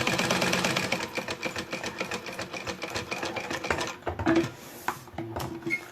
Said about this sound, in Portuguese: Faz um ano que eu comprei essa minha máquina transporte duplo, mais ou menos